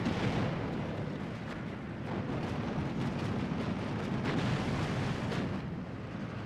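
Katyusha rocket artillery firing in the video game Steel Division 2, a dense continuous rumble of launches and blasts with sharp bursts scattered throughout, no talk.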